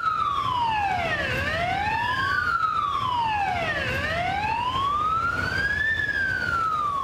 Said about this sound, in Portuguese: Andreila é condutora de motolância do SAMU.